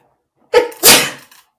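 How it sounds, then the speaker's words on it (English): A single sharp sneeze with a quick intake before it, close and loud, then quiet. "Oh, I feel a sneeze coming on."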